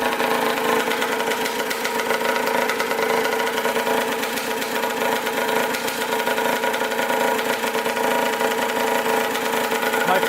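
A Suzuki RM125 two-stroke dirt bike, old and long unused, idles steadily and loudly at close range for the whole stretch, with an even buzzing drone and no voices.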